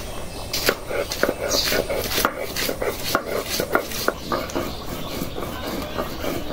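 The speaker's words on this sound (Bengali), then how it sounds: "এই যে পেঁয়াজটা বাইটে দিব, কাঁচামরিচ আর অল্প রসুন।" Onion, green chilli and a little garlic are ground into a paste by hand, producing a run of rhythmic scraping and knocking strokes, close and moderately loud, with faint voices in the background.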